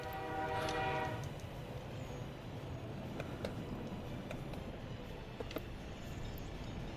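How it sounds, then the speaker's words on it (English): A container train rolls along the rails in the video game Workers and Resources, with a clear horn blast near the start followed by steady rumbling wagon noise and a few faint clicks. "This is a container train."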